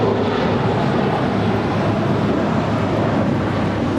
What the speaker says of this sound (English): this departure is JetBlue Airways Flight 1388 departing to Boston. It's an A321